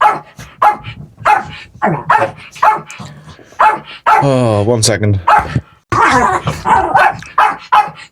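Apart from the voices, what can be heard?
two small dogs barking while play fighting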